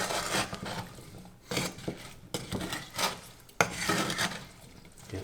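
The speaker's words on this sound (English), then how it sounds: "And we're just gonna stir continually." A spoon stirs blueberries cooking in a pot, with repeated scraping, rubbing sweeps against the pot, coming in uneven bursts with short pauses, close and fairly loud.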